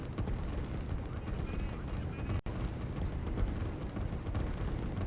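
A heavy artillery barrage in the strategy game Line War, during a tournament semifinal match: continuous rumbling booms and crackling gunfire with one abrupt cut midway, steady and loud throughout.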